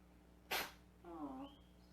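A single sharp sneeze bursts out, followed by a brief voiced sound, all quite faint against a quiet hum.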